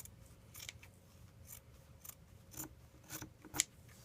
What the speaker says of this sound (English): I do have a pair of scissors that is just for fabric